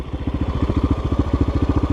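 GEON X-Road 250 PRO motorcycle idling up close, its single engine thumping in a quick, even pulse with a light mechanical clatter and no talk.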